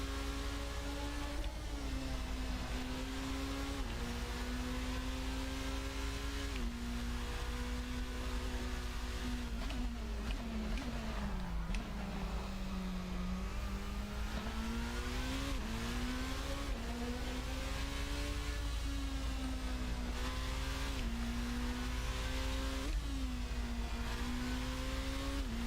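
A formula race car engine in Assetto Corsa drones loudly and continuously, its pitch rising and falling through gear changes and corners, alone with no voices.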